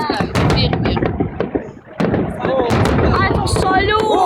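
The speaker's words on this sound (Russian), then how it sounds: "А это салют!" Fireworks for the 9 May 2015 holiday salute boom and crackle over Voronezh in a dense run of loud bursts and pops, with people talking nearby.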